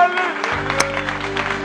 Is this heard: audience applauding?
yes